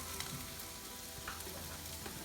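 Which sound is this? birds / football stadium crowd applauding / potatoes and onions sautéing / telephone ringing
potatoes and onions sautéing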